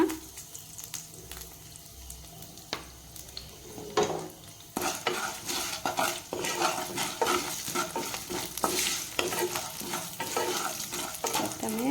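Chana dal roasts in a pan for lemon rice, a continuous sizzle broken by frequent spoon scrapes and clinks against the metal, louder and busier in the second half.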